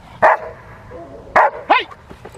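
A Rottweiler puppy on a bite sleeve during protection training gives three sharp, loud barks, one alone and then two close together, with quiet pauses between and no talk.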